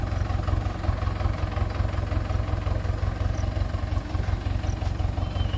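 A hard-worked farm tractor engine idles steadily up close, a continuous low throbbing rumble with even vibration and no talk over it.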